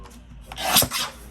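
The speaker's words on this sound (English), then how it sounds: "And now we'll cut it at 3 3/4." A single short, rasping slice as a sheet of 8 x 8 paper is cut, rising to a scratchy peak and trailing off within about a second, close by and fairly quiet with no talking.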